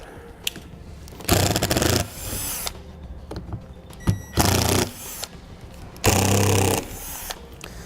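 A drill with a square bit backs out the screws on a Ventline Ventadome trailer roof vent on a 1994 Firan Coving, firing in several short loud whirring bursts separated by quiet pauses.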